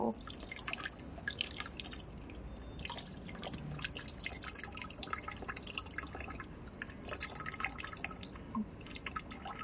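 Water splashes and drips onto a small child during a bath at home, producing a busy stream of wet drips and patters, fairly faint and continuous, with no voices.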